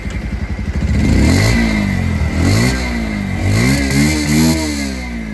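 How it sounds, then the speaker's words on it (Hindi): Bajaj Pulsar 125 BS6 Carbon Edition motorcycle exhaust, close and loud: a few idle pulses, then repeated throttle blips that rise and fall in pitch, settling back to a steady rumble between revs. "मैं आप लोगों को इसकी जो एग्जॉस्ट साउंड है वो भी बिल्कुल सुनाना चाहूंगा।"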